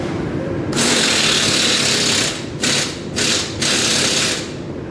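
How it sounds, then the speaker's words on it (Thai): Impact wrench hammering off nuts on an Isuzu truck with a 175-horsepower engine during axle repair in a warehouse, a loud, close, continuous rattling burst broken by short pauses into several runs. "ตอนนี้ยิงข้างในนะครับ ยิงน็อตตูด"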